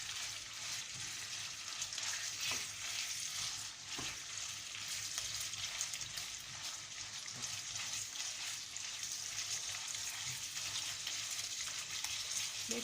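Beef pieces frying in a pan for cannelloni filling, a steady broad sizzle with occasional stirring clicks, continuous and close throughout.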